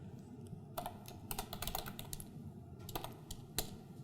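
Typing on a computer keyboard, a quick irregular run of light key clicks in short flurries with brief pauses, close and fairly quiet, with no voice.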